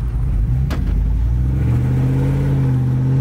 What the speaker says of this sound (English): Truck is running great.